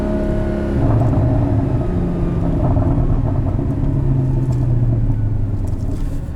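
A 2016 Porsche Boxster Spyder engine rumbles steadily with deep exhaust tone, rising in pitch as it revs, loud and close throughout.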